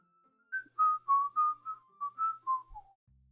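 A person whistles a short melody of about eight clear, steady notes ending in a falling tone, close and fairly loud with no voices.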